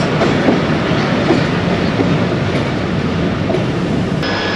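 A local KCR train rolls along steadily, its rumble and clickety-clack of wheels on rails filling the space up close, with a faint higher squeal near the end.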